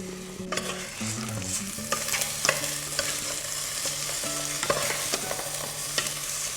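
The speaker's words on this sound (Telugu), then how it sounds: "కడిగి డ్రైన్ చేసిన జీరగ సాంబార్ రైస్ దోరగా వేపుకోవాలి" Washed and drained jeera samba rice fries and is stirred in a pan with oil, a steady close sizzle broken by repeated scraping and clinking of the spoon against the pan.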